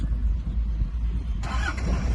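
A car engine cranks and catches during a driving lesson, a low idling rumble with a brighter rise partway through as it fires up, close and steady, no talk over it.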